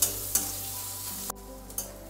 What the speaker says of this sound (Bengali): একটা বড় সাইজের পেঁয়াজ কুচি, দিয়ে পেঁয়াজটা একটু লাল লাল করে ভেজে নেব।